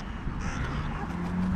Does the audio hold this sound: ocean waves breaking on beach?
no